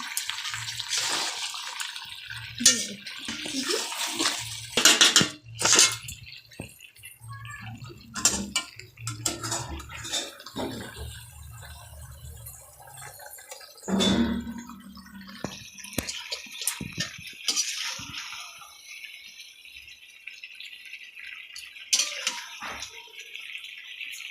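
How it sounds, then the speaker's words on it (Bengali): Water poured into a pot of cooking oil-free chicken, a quiet trickling splash with scattered clicks and knocks of the pot in an otherwise hushed kitchen. "এবার জলটাকে অ্যাড করে দিলাম।"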